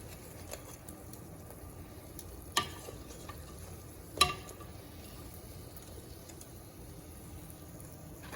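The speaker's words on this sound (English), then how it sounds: "I just take my tongs, just gonna flip them." Tongs flip frying food in a pan over a low steady sizzle, with two sharp metallic clicks from the tongs standing out partway through.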